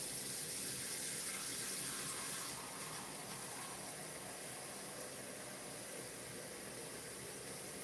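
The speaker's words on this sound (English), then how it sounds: "Gonna put the water in like this." Water from a tap pouring into a cooking pot, a steady faint hiss that drops slightly in level partway through as the fill continues, no talk.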